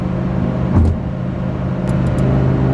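A Lamborghini Huracan Performante fitted with a Kline exhaust cruises at highway speed in its quieter Strada mode, giving a steady low engine drone under road and wind noise, with a couple of faint high clicks.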